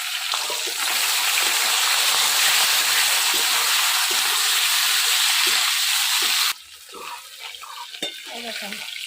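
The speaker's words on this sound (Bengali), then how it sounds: "এই দেখেন টাকি মাছ ভাজা হয়ে গেছে, কত সুন্দর ভাজা হয়ে গেছে লাল লাল করে" Taki fish fry in hot oil in a pan, giving a loud, continuous sizzle that cuts off abruptly partway through, leaving quieter kitchen clatter.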